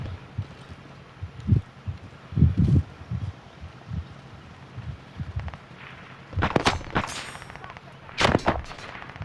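Gunfire in a shooter video game: a few scattered low thumps early on, then two sharp, loud bursts of shots later, with quiet ambient noise between.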